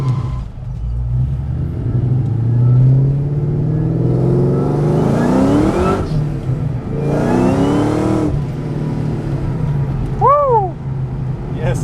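A Ford SVT Terminator Cobra running on E85 with a stock clutch accelerates hard, its engine rising through loud, rumbling revs in two long pulls, followed by a short whoop from a voice near the end.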